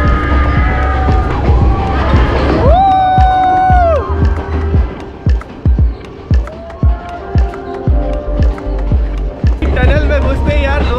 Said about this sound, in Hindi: टनल में घुसते ही यार लोग इतने तेज चिल्लाने लगते हैं ना।